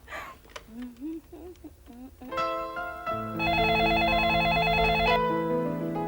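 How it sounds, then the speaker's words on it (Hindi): A bright electronic phone ring repeats steadily and loudly, preceded by a short stretch of a voice humming a melody. "अरे तो जल्दी से फोन लगा ना"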